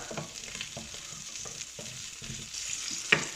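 Chorizo cooking in a dry pan as its own oil renders out: soft, continuous sizzle with irregular scraping and stirring knocks, fairly quiet and close, ending in a small sharp clink.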